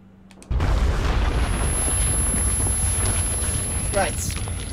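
A loud explosion in the video game Metro 2033 bursts in suddenly, then a sustained rumbling, debris-filled roar carries on for several seconds.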